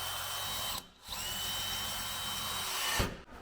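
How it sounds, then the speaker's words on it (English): A power drill bores a small hole straight through a house wall, a steady close whine with two brief pauses as the bit stops and restarts. "This is gonna let me drill all the way through the wall and poke onto the outside with a little tiny hole"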